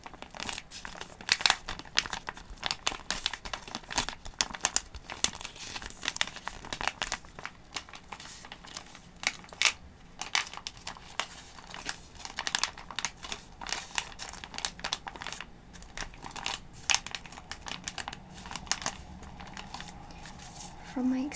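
Crinkly plastic packaging from a beauty box is handled close up, giving a rippling run of soft crackles and rustles in irregular bursts, while a soft-spoken voice talks.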